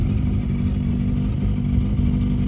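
A Yamaha FZR600 motorcycle with an aftermarket Amazon exhaust runs with a steady, deep, throaty engine drone, close and loud, holding an even note without speech.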